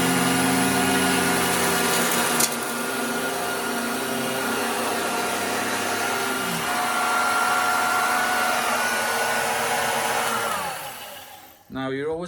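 A Dirt Devil handheld vacuum cleaner runs steadily and loudly for most of the clip. Its motor pitch shifts slightly partway through, then it switches off near the end before a brief burst of noise.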